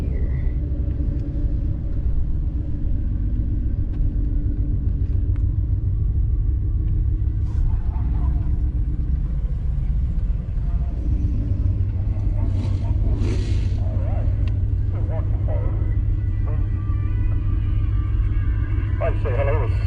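A car with a full exhaust and weight reduction makes a pass in second gear, its deep engine rumble droning steadily throughout, with faint bursts of other noise and a voice briefly in the background.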